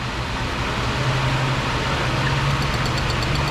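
A high-mileage Ford Escape 3.0 V6 with a misfiring cylinder idles steadily, a continuous low hum and rumble close up with no voices.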